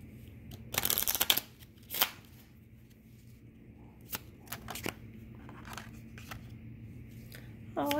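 A deck of tarot cards being shuffled close up: a dense riffling burst, then a shorter one, followed by several sparse taps and flicks of the cards in a quiet room.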